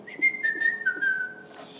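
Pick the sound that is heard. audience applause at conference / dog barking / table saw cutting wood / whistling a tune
whistling a tune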